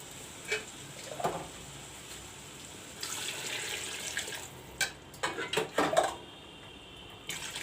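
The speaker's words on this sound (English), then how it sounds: "I am going to put warm water, not cold water." Warm water pours into a metal pot of mutton with a steady splashing rush, followed by clinks and knocks of utensils against the pot.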